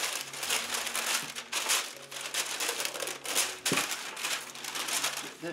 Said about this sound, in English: just put on a couple pieces of parchment here